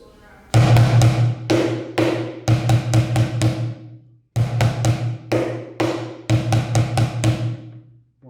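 Beginner bucket drum beat played on a plastic bucket, alternating deep mid-bucket thumps with sharper rim hits in a repeating syncopated pattern, two phrases separated by a brief pause, close and loud with no talk.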